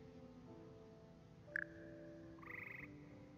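Magical choir frogs in Hogwarts Legacy croak and sing in sustained, overlapping tones, with a brief sharp chirp midway and a higher held note near the end, soft and unaccompanied by talk.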